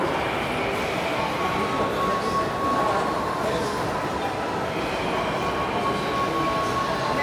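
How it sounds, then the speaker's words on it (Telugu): A colorful amusement-ride train rolls along with a continuous rumble, rattling wheels and faint squeals, while people talk over the steady ride noise. "ఇదే అండి ట్రైన్, చాలా కలర్ఫుల్గా ఉంది"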